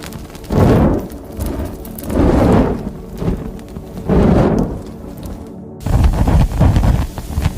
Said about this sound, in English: Torch Burning Fire by Ivo Visage Sound Libraries was made by recording a burning torch